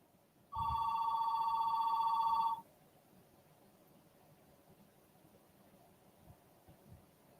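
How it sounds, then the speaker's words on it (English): An old-style landline phone lets out a single loud ring lasting about two seconds, a buzzy warbling trill up close, then stops, leaving a quiet room with faint hum and small handling noises. "So I apologize for the ringing phone"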